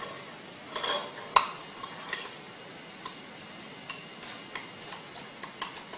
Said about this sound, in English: We whisk that all up